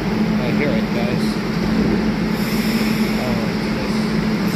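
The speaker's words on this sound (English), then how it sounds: "I'll wait for this train to depart" Montreal Metro Azur train at an underground station, a steady loud rumble and hum of the train and station machinery filling the space throughout, with muffled voices faintly underneath.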